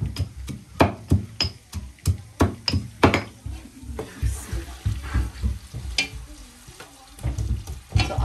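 Garlic and ginger frying in a pan while being stirred, with sharp scraping clatters of the utensil against the pan over a soft sizzle, busy at first and then settling into lighter, intermittent stirring.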